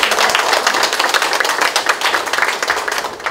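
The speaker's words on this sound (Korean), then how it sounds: "최우광학생 소장님을 큰 박수로 환영해 주시기 바랍니다" An audience at a provincial council members' training session applauds to welcome a lecturer, giving a dense, loud wash of many hands clapping throughout.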